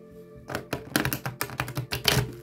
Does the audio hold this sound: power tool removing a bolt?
no